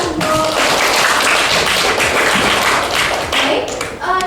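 A roomful of people at a meeting applaud, with dense, loud clapping from many hands that carries on steadily, then thins out and fades near the end.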